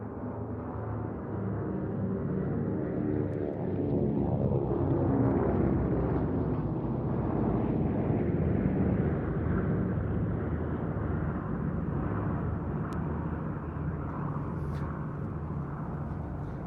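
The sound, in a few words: WWII aircraft flypast: B-17, Mustangs, P-40F, Wildcat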